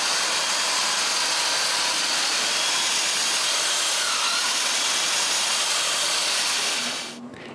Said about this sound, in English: The first thing to do is to sand the front edge.